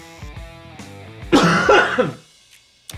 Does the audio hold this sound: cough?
yes